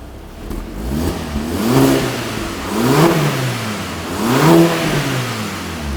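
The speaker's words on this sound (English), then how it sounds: "let's get a rev, see what it sounds like." A SEAT Altea engine revs three times in succession through a new exhaust, each rise swelling to a throaty peak then falling back toward idle, close and loud.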